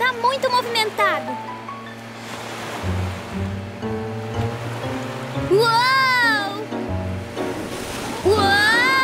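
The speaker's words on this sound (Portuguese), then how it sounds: "O mar tá muito movimentado!" Rough sea waves in a cartoon surge and wash continuously beneath excited children's voices and animated character sounds, the water swelling in loudness toward the end.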